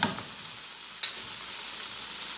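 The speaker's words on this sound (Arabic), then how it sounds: "ورحنا جايبين معلقتين صلصه ونازلين بيه" Garlic and tomato paste sizzle and fry in a pan, a soft steady crackle with a couple of brief stirring clinks, quiet and close, with no voices.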